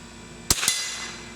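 A single sharp crack from a Remington 510 Targetmaster rifle fired at an outdoor target, followed by a brief metallic ring and a fading tail.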